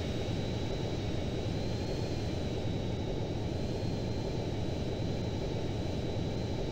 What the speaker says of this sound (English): We're gonna be taking off on runway 69 in just a second